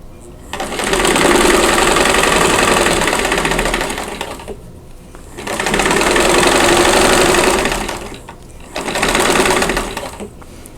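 A sewing machine stitches quilt blocks in three sustained runs, each a few seconds long, with short pauses between them. The motor hum is loud and close.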